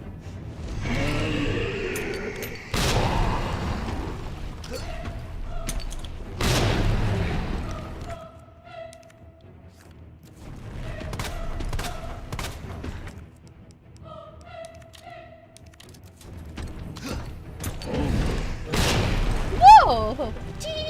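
Shotgun blasts in the Resident Evil 2 remake, several loud separate booms spaced seconds apart among quieter game sounds and talking.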